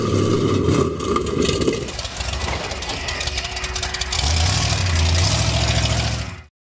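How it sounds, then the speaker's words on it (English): A 4x4 off-road truck engine with fuel delivery issues runs unevenly, its rough, low rumble faltering and surging before building again and cutting off abruptly at the end. "This engine's trying to cut out on it. Looks like there may be some fuel delivery issues."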